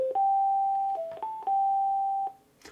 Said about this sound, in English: That is the notification.